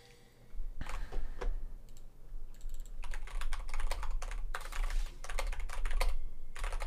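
Dense, rapid clicking and tapping on a computer keyboard during a League of Legends match, close and continuous in rhythmic bursts over a low background hum, with no talking.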